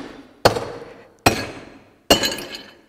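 A hammer strikes a tile three times, each blow a sharp, loud crack with a brief shattering ring that fades before the next, spaced about a second apart with no talk.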